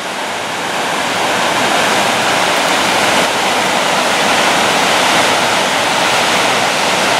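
Water gushes powerfully out of a weir outlet, making a loud, continuous broadband roar that stays steady throughout with no voices.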